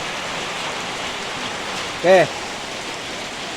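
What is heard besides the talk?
rain falling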